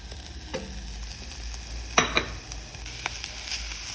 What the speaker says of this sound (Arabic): اروح نازله باللحمه بتاعتي بعد ما البصلايه تدي اللون البني وتتشوح